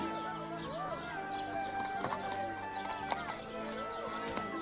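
Arabian horse hooves clip-clopping in a steady, evenly spaced rhythm, moderately close, amid a busy market background with tonal music-like sounds.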